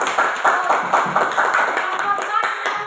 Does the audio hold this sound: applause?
yes